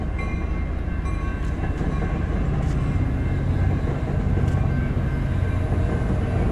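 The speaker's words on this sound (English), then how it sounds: "It's more like a passenger train." A passenger train rumbles steadily past at close range, a loud continuous roar of wheels and cars with no voices.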